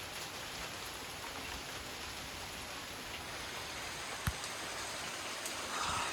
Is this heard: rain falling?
yes